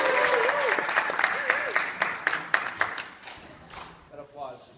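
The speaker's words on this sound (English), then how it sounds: "That applause just can't stop running out." Audience applause at a Destination Imagination elementary-division competition, a few seconds of moderately loud clapping from a crowd that thins and fades out, with an announcer's voice heard over it.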